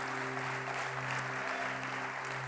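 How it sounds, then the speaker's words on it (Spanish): Church congregation applauding together, a steady dense wash of clapping with a low sustained hum underneath, no voices over it. "Les damos un fuerte aplauso para que lo sientan desde aquí."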